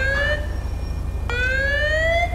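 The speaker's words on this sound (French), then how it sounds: "un petit test pour checker si les sirènes ça marche comme faut" A Montreal police car's Signaflex dual siren being tested, loud rising electronic wails that cut off and restart, heard close and alone over a low engine hum.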